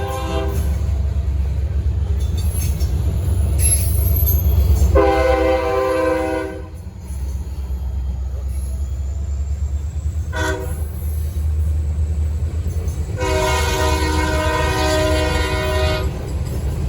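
A passenger train led by a P42 locomotive rumbles past steadily in Gaffney, South Carolina, while its horn sounds two long, loud blasts, one early and one near the end.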